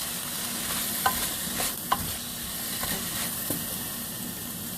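Food sautéing in a pan for white chicken chili, a steady broadband sizzle with a few sharp clinks and scrapes of a utensil stirring, close and moderately loud, with no talking.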